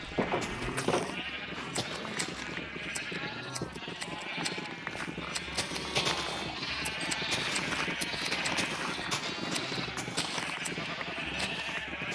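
Sheep bleat repeatedly in a Minecraft farm pen, a dense layered chorus of overlapping animal calls with scattered clicks and game noise, steady and fairly loud throughout with no talking.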